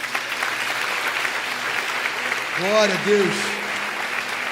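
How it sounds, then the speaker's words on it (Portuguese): A church congregation applauds during a sermon, steady crowd clapping throughout while a voice speaks briefly over it. "Você pode aplaudir a Ele por isso?"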